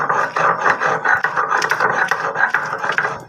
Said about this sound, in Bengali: গাইস দেখুন, আমি এবার ধনেপাতাটা শিলের মধ্যে বেটে নিচ্ছি।